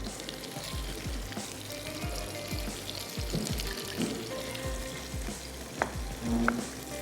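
Eggplant, potatoes and green beans simmer and sizzle in a pan with added stock, a steady close bubbling hiss broken by repeated spoon stirs and a few scraping knocks, with no talking.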